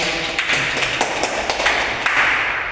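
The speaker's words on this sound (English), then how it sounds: "Clap for Karanja and Amon." An audience claps for Karanja and Amon at a community gathering, a steady dense patter of many hands with a few sharper individual claps standing out, continuous for a few seconds.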